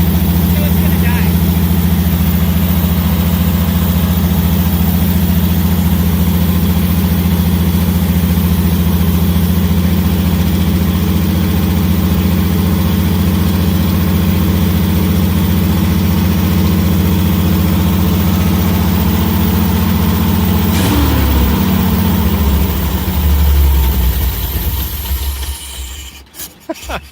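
A Jeep engine, just restarted after a carburetor fix, idles steadily with a deep, even rumble close by, continuing for a long stretch before cutting off near the end, with people talking over it.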